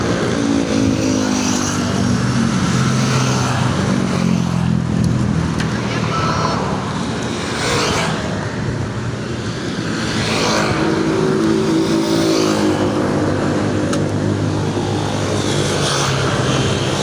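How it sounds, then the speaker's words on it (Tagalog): Fast cars and traffic rushing past on the C6 highway near Taguig, a continuous loud roar with repeated swelling pass-bys every couple of seconds, close to the listener. "Ang bibilis ng mga sasakyan."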